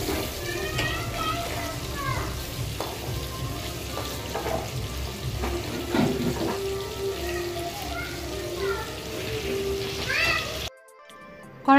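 Fish frying in oil in a wok, a steady sizzle and water-like hiss running throughout with a voice and other chatter over it, then dropping away abruptly near the end.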